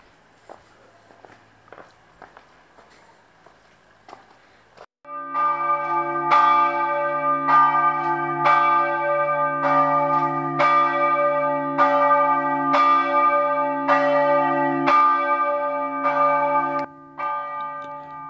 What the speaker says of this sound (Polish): Słuchając tych wspaniałych dzwonów i patrząc na wieżę kościelną